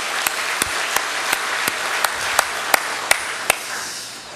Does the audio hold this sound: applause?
yes